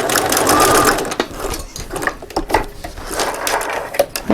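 Close, busy sewing machine stitching fabric for a double cup holder, rapid mechanical whirring and clicking in short bursts with brief pauses.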